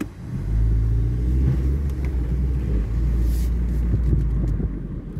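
A Ford Focus in drive in first gear, hesitating with a burnt clutch smell, giving a loud low engine rumble from inside the car that swells and holds steady without clear acceleration, with no talk.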